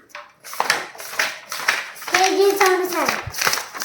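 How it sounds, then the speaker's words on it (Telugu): A book is slapped or tapped several times in a steady series of sharp, close knocks, with a voice speaking over the middle of the sequence. "పుస్తకం సౌండ్ ఇది"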